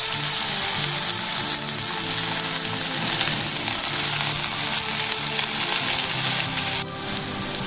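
Crushed ingredients frying in coconut oil in a wok while prawns and long beans are cooked, giving a loud, continuous close sizzle with a brief clatter near the end.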